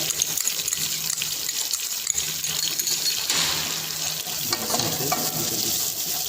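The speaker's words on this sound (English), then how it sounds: "Now our pan is hot. We'll be adding chopped garlic in this." Chopped garlic sautéing in hot butter and oil in a pan, a steady close sizzle and crackle with occasional stirring, continuous throughout with no talk.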